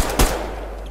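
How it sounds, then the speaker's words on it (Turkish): A single sharp gunshot cracks once in the online shooter game Survarium, with a short reverberant tail and a low steady hum beneath. "Ama silah sesleri güzel"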